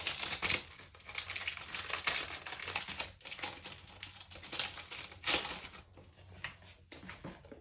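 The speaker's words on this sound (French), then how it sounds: "je prends une petite enveloppe" A small paper envelope for budget cash is handled up close, giving crisp crinkling and rustling bursts that rise and fall, with short sharp crackles and brief pauses.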